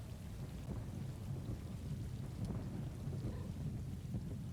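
Video game rain pours steadily with a low rumble of thunder rolling underneath, continuous and fairly close, with no talking.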